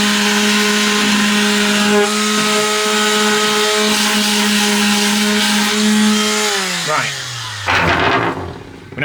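A power tool runs steadily at close range while working on van cladding during a van build, its motor holding a sustained whine before winding down and stopping near the end, followed by brief handling noise.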